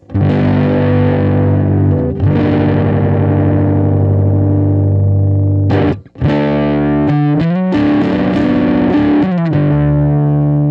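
Loud, heavily distorted electric guitar chords ring out through an overdriven 5-watt Nordin Champ tube amp, with a brief cut near the middle before a busier riff resumes.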